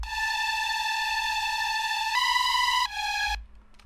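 A Serum synth patch from the Echo Sounds Coda pack, played without autopan: a steady, bright sustained tone with stacked harmonics that shifts pitch twice before cutting off, alone and fairly loud.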